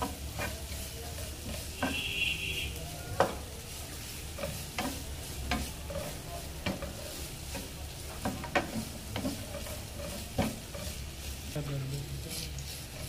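Chicken frying with capsicum and onion in a pan, a low, soft sizzle with a spoon scraping and tapping at irregular intervals, heard close up while someone talks over it.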